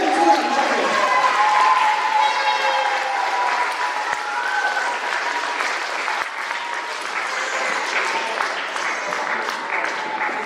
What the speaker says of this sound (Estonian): Ja aplaus 9. klassile.